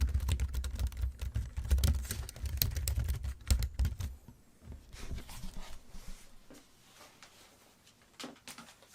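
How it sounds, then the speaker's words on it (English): Typing on a quiet Logitech K780 computer keyboard, rapid dense key clicks close up for the first few seconds, then slower, sparser and softer keystrokes. "here is my quite silent Logitech K780"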